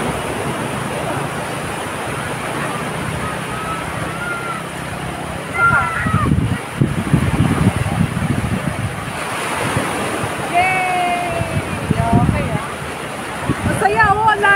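Waves washing in at Matabungkay Beach in Batangas, a continuous surf roar with wind buffeting the microphone, swelling louder midway, while people talk and children's voices come and go.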